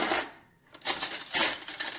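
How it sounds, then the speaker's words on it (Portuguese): Metal cutlery clinking and jangling in two short bursts separated by a brief pause, bright and close, with no voices. "Esse é o som que os talheres fazem."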